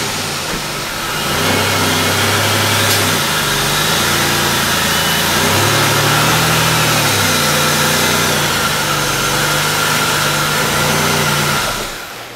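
A 2004 Impala with a 3.8L engine is driven slowly up onto ramps, its engine rising and easing in a few gentle revving swells close by, loud and steady, with no talk.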